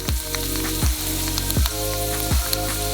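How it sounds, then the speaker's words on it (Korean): Hot oil crackles and sizzles loudly as cooked, dried rice fries and puffs up like popcorn, with four regular low thumps spaced evenly beneath the constant frying hiss. "뜨거운 기름에 튀기면 돼요."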